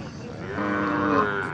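A bull at the Kharsundi cattle market gives a single drawn-out, close moo that swells and holds for about a second over low crowd murmur.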